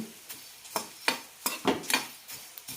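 Dry coriander seeds are stirred in a hot pan while roasting, giving a series of crisp, close scraping and rattling sweeps at an irregular pace, with no voices.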